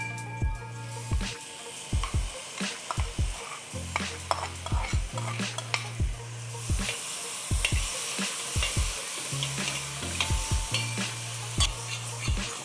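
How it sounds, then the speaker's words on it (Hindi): Bihari fish curry masala with tomatoes frying on a low flame, a continuous sizzle under repeated close spatula scrapes and knocks against the pan, with a low steady hum beneath. "सो अभी अच्छी तरह हम इसे भून रहे हैं।"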